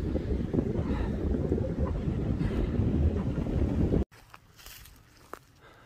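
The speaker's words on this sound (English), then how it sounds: "good view from up on this ridge, but also lots of wind" Strong wind buffeting on an exposed mountain ridge along the Appalachian Trail, a loud rumbling roar for about four seconds that cuts off abruptly to a quieter hiss with faint rustles.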